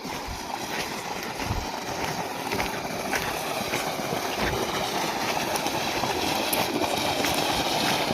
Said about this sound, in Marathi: पाणी इकडं पण फुटलेलं आहे